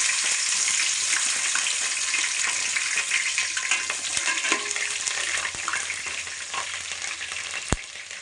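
Green chillies for vegetable fried rice fry in hot oil with a dense, steady sizzle up close and an occasional sharp pop.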